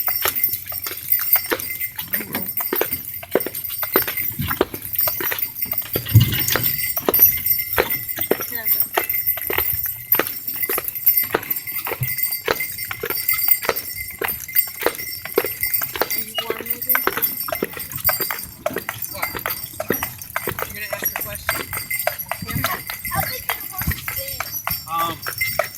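Steady clip-clop of carriage horses' hooves on pavement in Fountain Inn, South Carolina, even and unhurried, with someone talking over it throughout.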